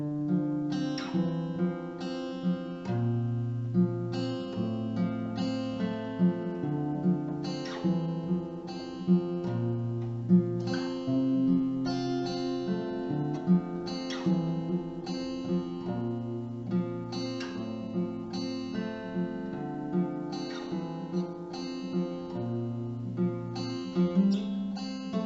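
Acoustic guitar playing a passage of a song, with plucked single-note melody and slides over open strings, close and clear, steady gentle rhythm throughout with no voice.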